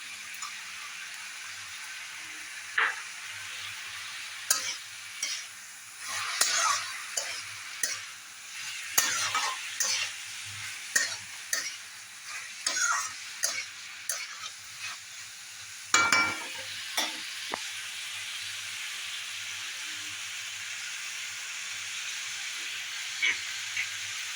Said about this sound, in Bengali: এবার আলু আর চিংড়িটাও দিয়ে দেবো।